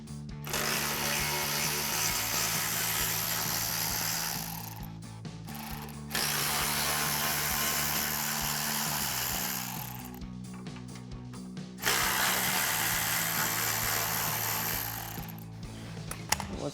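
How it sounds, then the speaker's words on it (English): Power driver or ratchet running out three T40 Torx screws from a 2021-2023 Ford Bronco bumper, heard as three long steady whirring bursts of several seconds each, separated by brief pauses, loud and close with no talk. "grab our T40 Torx bit on our ratchet and go ahead and run those out"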